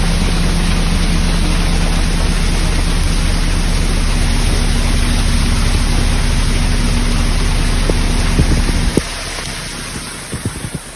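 Heavy rain on a narrowboat roars as a dense, steady hiss, with a low engine-like drone underneath that cuts out near the end, leaving the downpour.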